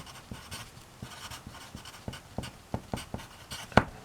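A pen writes on paper in short scratchy strokes, a quick irregular run of close taps and scrapes with a louder click near the end, no talk.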